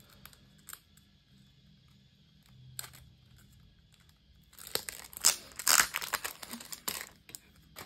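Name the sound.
cutting out a piece of yellow paper for a card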